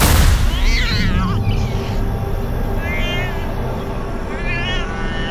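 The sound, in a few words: black cat meowing, horror story sound effect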